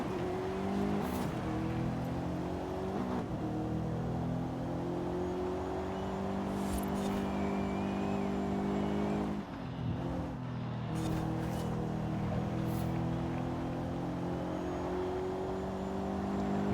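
Porsche race cars roar around a track in the video game Forza Horizon 5, a sustained, steady engine drone with shifting gear tones and a brief dip midway, no talking.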